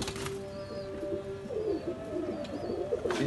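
Pigeons coo softly in low, repeated calls on a rooftop loft. Faint background tones drift underneath, and no one speaks.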